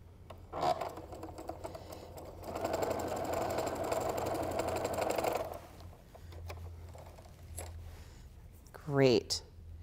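A sewing machine runs in a steady burst of stitching while quilt pieces are sewn, with quieter handling noise and a brief voice before and after, set in a home quilting space.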